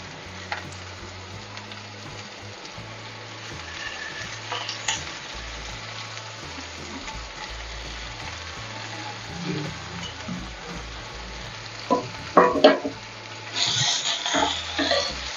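Greens (keerai) sautéing with onions in a pan, a low steady sizzle with occasional stirring scrapes that grow louder and busier near the end, over a background drone.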